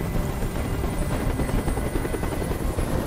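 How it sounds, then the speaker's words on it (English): A helicopter's rotors drone steadily in the video game Detroit: Become Human, loud and close, in a continuous hovering roar with no pauses. "I can't stand that noise anymore. Tell that helicopter to get out of here."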